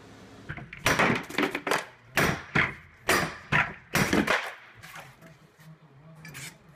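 Office door and fixtures being ripped out during demolition of an office interior: a rapid series of loud, sharp cracks and wooden bangs, about ten hard impacts in quick irregular succession, then quieter scraping and rumble.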